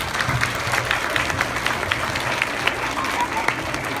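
Audience applause at a Beta Club induction ceremony, a continuous, even round of clapping from a large crowd, moderately loud, with faint murmuring beneath it.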